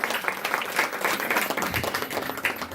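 Audience applause breaks out to open an annual day celebration at Khushnaseeb Bhawan in PD Vihar, Delhi: a dense, steady burst of many hands clapping together, loud and sustained for a few seconds.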